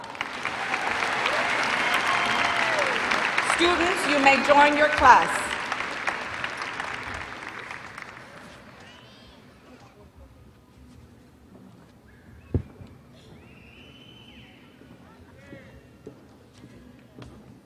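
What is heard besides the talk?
graduation audience applause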